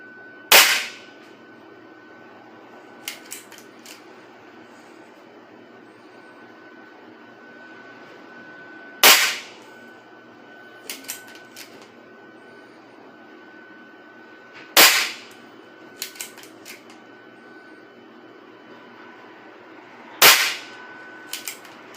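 An M16 airsoft rifle fires Promax BBs in four sharp, loud single shots spaced several seconds apart, with faint mechanical clicks in between over a steady background hum.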